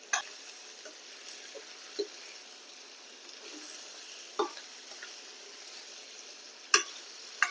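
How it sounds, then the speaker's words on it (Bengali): Chicken pieces frying in a pan, a faint steady sizzle broken by a few sharp clicks and scrapes of stirring, with no speech. "চিকেনটা একটু ভাজবো।"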